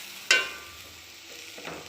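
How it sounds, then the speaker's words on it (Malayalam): A spoon stirs ground coconut masala in a hot pan for squid thoran: one sharp scrape with a brief sizzle, then a quieter stretch and a second soft scrape, close and without talk. "എല്ലാം നല്ലപോലെ ഒന്ന് ഇളക്കി യോജിപ്പിക്കട്ടെ."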